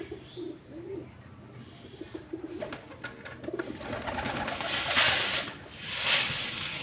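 A Madras pigeon kept at home gives low, soft cooing calls, with scattered rustles and thumps and a couple of brighter chirps later. No one speaks.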